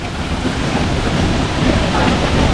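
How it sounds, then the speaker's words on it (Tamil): Shenbaga Devi Falls at Courtallam, a dense, unbroken roar of rushing water close by, loud and steady with no pauses. "செம்பகாதேவி வாட்டர் ஃபால்ஸ் பாருங்க."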